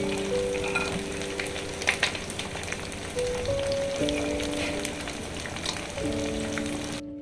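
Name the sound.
chicken frying with cashews in a pan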